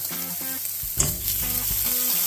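Butter sizzling in a hot pan with a wagyu steak, a loud steady crackling fry close by with a brief clink partway through.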